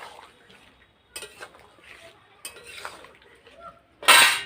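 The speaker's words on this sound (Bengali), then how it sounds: "দিয়ে দেব 1 চামচ ঘি, দিয়ে সব কিছু একসাথে ভালো করে একটু মিশিয়ে নেব" Shukto, a Bengali vegetable dish, is mixed in a pan with ground spices and ghee: several bursts of spoon scraping and clinking against metal, ending in a loud clatter.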